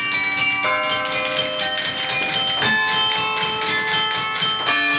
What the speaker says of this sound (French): En haut du beffroi, jamais le carillon n'avait autant sonné.